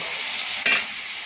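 Prawns fry in a pan of oil for potol chingri, giving a soft continuous sizzle with a brief louder burst as they are stirred or moved, and no voices.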